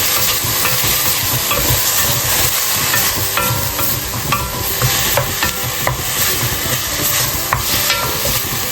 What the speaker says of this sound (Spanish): ahora que tenemos la carne sellada, vamos a agregar el tomate picado